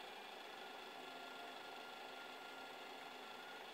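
Creality CR10S 3D printer at work, pushing room-temperature dough through a homemade syringe extruder with no hotend; a steady, fairly faint mechanical whir and hum of stepper motors runs throughout without pause.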